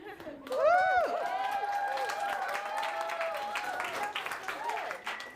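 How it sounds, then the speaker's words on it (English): A crowd applauds with whoops and cheering voices for a performer named Ray at a Girlvolution show, steady and fairly loud for several seconds, with shouting rising over the clapping. "let's give Ray one more round of applause"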